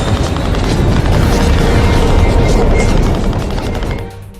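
Loud, dense gunfire from a video game as troops open fire together, a sustained roar of overlapping shots and booms that cuts off abruptly near the end.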